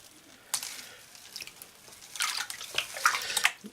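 Water is swished back and forth in a gold pan to separate out gold. The sloshing is quiet and close, starting with a single splash. It grows into busier, irregular washing and trickling toward the end.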